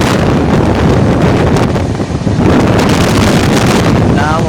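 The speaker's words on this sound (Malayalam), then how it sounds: "മോനെ കാറ്റ്." Strong wind buffets a microphone beside the moving Mangala Express on the Konkan Railway, making a loud, continuous roaring rumble with gusty surges and a short dip midway.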